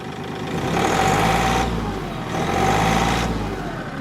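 Kioti CK10SE compact tractor's engine working under hydrostatic pedal drive, a steady loud diesel drone that swells twice as revs rise and settle, with a faint whine on top and no talk.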